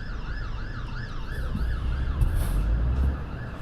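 Siren sound effect triggered by a chat command, wailing in regular rising-and-falling sweeps over a low rumbling vehicle drone, loud and continuous with no voices.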